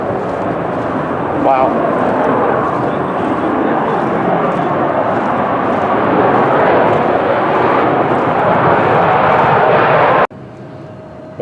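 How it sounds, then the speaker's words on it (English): An F-35 fighter jet takes off during an airshow weekend near the NAS Pensacola lighthouse, a loud, steady, broadband jet roar building over ten seconds before cutting off abruptly, with a brief exclamation from a bystander. "That's the F-35 taking off right there."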